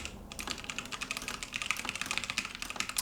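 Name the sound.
typing on a computer keyboard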